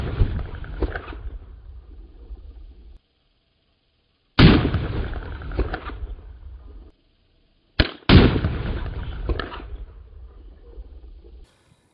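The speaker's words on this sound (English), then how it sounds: "Still shooting our 365 grain mini ball." Three loud muzzleloader rifle shots firing a 365 grain minié ball over a Pyrodex powder charge, each a sharp close blast followed by a long rumbling tail that fades into silence before the next, the last two coming in quick succession.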